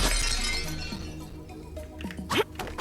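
Security glass shattering in the video game ReLooted: a crisp, close crash of breaking glass with scattered clinking shards, a sharp burst near the end, over a steady game background hum.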